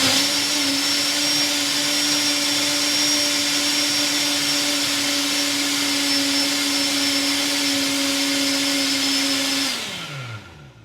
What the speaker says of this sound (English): help if I turn the blender on